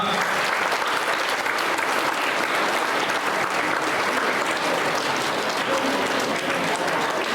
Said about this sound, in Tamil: நல்லா கிளாப் பண்ணுங்க.